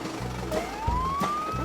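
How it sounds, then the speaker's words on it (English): Fire truck siren in a children's nursery rhyme, a rising wail that sweeps upward and holds, with low rumbling engine noise and a couple of soft thumps beneath it, fairly loud and steady with no talking. "The siren on the fire truck goes woo, woo, woo"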